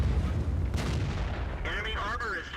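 A KV-1 heavy tank's cannon fires in World of Tanks: one loud, booming shot near the middle, followed by rumbling battle noise, with a voice speaking briefly near the end.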